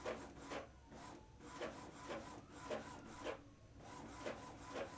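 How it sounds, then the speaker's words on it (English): An Epson wireless printer prints a test page, its print head rasping back and forth in regular, repeating passes at moderate volume, with no talking. "You can actually hear the printer printing."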